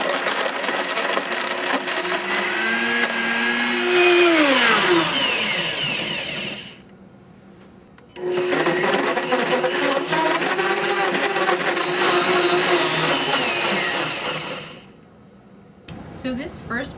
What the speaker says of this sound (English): So this first Blendtec pitcher and blade did not do a good job with the orange and ice.